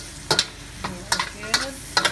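Garlic frying in a pan for string bean adobo with pork and Spam, a steady sizzle broken by four sharp, close scrapes of a utensil stirring against the pan.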